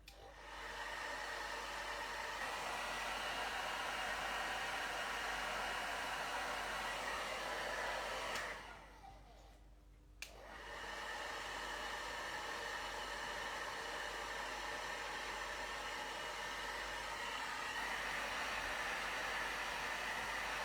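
A hair dryer blows steadily on wet craft pieces, a loud, close, continuous rushing whoosh that briefly drops off for about two seconds near the middle before returning at full strength.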